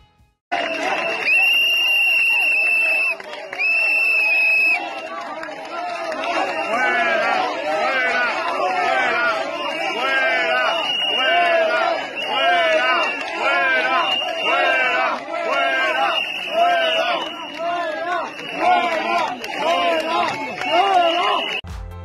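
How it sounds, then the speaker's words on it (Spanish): A large crowd in Seville jeers and chants at Pedro Sánchez, a loud, sustained roar of many rhythmic shouting voices with a whistle at the start, continuing without a break. "recordar este brutal abucheo que recibió en la ciudad andaluza"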